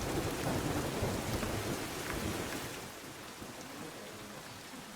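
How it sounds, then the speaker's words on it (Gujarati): Heavy downpour in Ahmedabad, a dense, steady roar of rain pounding surfaces with low thunder-like rumble, loud at first and easing slightly, with no voices. "અમદાવાદની અંદર પશ્ચિમ વિસ્તારોની અંદર ધોધમાર વરસાદ ખાબકી રહ્યો છે"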